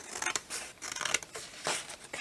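Scissors snip repeatedly through card, a quick irregular series of crisp cuts close up, with no talking.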